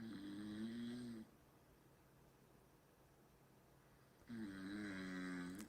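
Two loud snores from a sleeping person, recorded at night and played back from a phone, each a rough, buzzing, drawn-out breath separated by a quiet pause of about three seconds.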